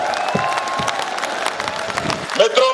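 A crowd at a political rally welcomes Om Birla with applause and some cheering, moderately loud and somewhat distant, with a voice and tonal sounds over it.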